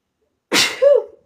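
A single loud, close sneeze: a sharp burst followed by a shorter voiced tail, with silence before it.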